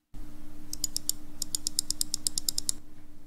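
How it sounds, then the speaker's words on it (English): An Asus ROG Pugio II gaming mouse with its original Omron switches gives about a dozen crisp, close clicks in quick rhythmic bursts over a steady low hum. "the original switches make this clicking sound."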